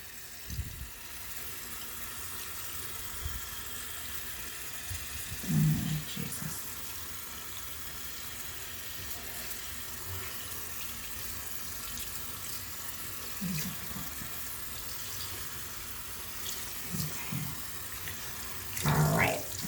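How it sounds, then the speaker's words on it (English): Tap water runs continuously over hands during a handwashing exercise at a sink, a steady close splashing hiss with a few louder splashes as the hands move under the stream. "I'm just going to let the water run off of my hands."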